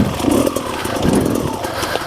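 A 2017–18 Beta Xtrainer dirt bike rides over rocky, lumpy ground, its engine droning steadily and close with slight rises and dips through a short run.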